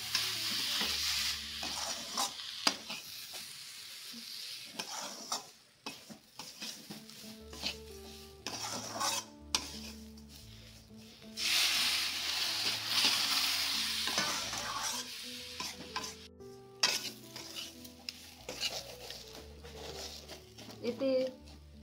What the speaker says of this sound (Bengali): মা নাড়বে।